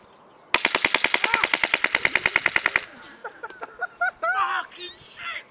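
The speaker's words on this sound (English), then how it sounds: "He just took 20 bullets fully auto." A gun fires about twenty rounds fully automatic in one rapid, evenly spaced loud burst, close by. Excited shouting and talk follow right after.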